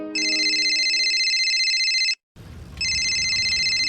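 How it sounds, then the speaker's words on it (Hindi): A phone rings with an incoming call, loud electronic ringtone tones repeating in two bursts separated by a brief gap, heard close and alone in a domestic Haryanvi family drama setting. "वो एक जरूरी फोन आ गया जी"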